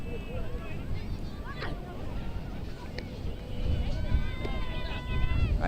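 Strong wind roars steadily across an outdoor field during a women's division group game, a constant low buffeting rumble that swells louder toward the end, with faint voices and whistle-like tones drifting in the distance.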